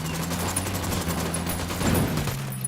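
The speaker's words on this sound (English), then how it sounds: "Opening fire." Rapid bursts of automatic gunfire in Ghost Recon crackle continuously for a few seconds, a dense fusillade with a low steady hum underneath and no talking.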